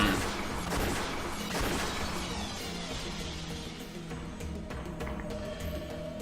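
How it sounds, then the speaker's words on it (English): Blue truth wedges fired like cannon shots in the Umineko visual novel, a dense, loud barrage of booming, gunfire-like blasts that rolls continuously with sharp bursts near the start. "The 5 wedges of blue truth she released shot right past Beato's cheeks, hair, and shoulders."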